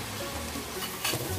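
Vegetables sauté in a pan for pinakbet, with a soft, continuous sizzle and light crackle and a brief louder spatter near the end, heard close and without speech.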